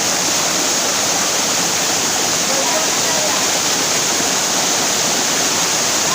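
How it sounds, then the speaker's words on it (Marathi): A waterfall gives a steady, dense roar of rushing water, loud and unbroken throughout, with no pauses or distinct splashes. "मित्रांनो धबधबा आलाय, धबधबा."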